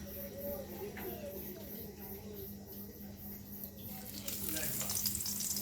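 Sweet pumpkin slices sizzle steadily in a small amount of oil, a continuous crackling hiss that swells louder toward the end, with faint kitchen clatter.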